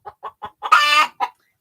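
A laying hen clucks close by: three short, evenly spaced clucks, then a longer, louder drawn-out squawk and one final cluck.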